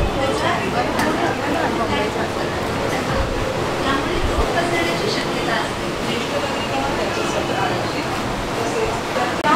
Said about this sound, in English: Yes, got the fast train.